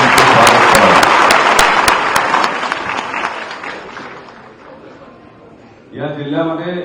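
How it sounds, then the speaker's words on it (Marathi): An audience at a Nagpur district civic gathering applauds loudly to welcome the chief minister, with dense clapping that swells and then fades gradually, followed by a voice speaking over the remaining claps. "जोरदार टाळ्या वाजवून आपल्या स्वागत करावं"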